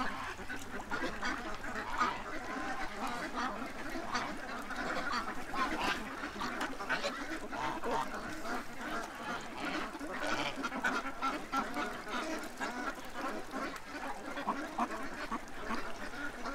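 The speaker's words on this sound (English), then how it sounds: "a lot of ducks behind us" A large flock of ducks quacks continuously and densely, many voices overlapping close by in a steady chorus, with occasional honk-like calls and no talking.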